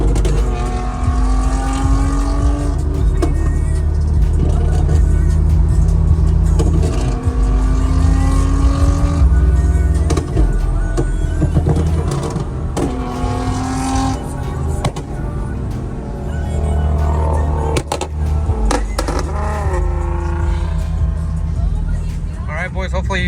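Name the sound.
car exhaust shooting flames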